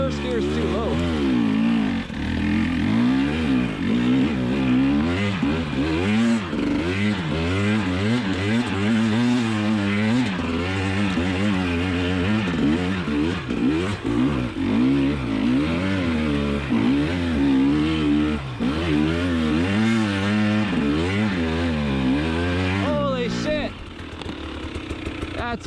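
A 2020 KTM 300 XC TPI two-stroke dirt bike ridden off-road, its engine revving up and down continuously in close, loud, rising and falling waves as the rider talks over it.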